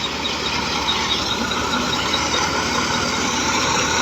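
A Massey 240 tractor engine drones steadily while driving a thresher processing mustard, a loud continuous rumble with dense mechanical noise throughout and no speech.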